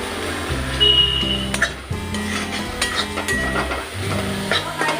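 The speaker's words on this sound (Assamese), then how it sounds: "লাৰি ভাজি থাকিব।" Cumin and chili stirred in a hot pan for an Assamese taro dish, giving a steady sizzle and fry with scraping stir strokes and light utensil clinks throughout, close and fairly loud, no talking.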